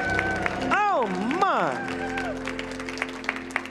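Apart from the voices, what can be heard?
audience applause at a healing service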